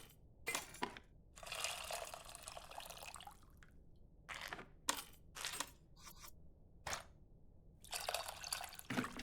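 Tamarind being mixed into a bowl of water in the cooking game Venba gives faint, scattered splashes and swishing strokes in short bursts with quiet gaps between them.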